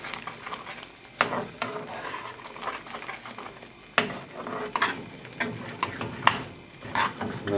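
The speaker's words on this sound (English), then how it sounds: "Just give that a good stir." A spoon stirs tarka dhal in a pan, scraping and clinking against the metal in a few distinct strokes over a soft, continuous sizzle, close and without speech.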